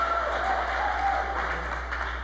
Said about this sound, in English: Please hold the applause.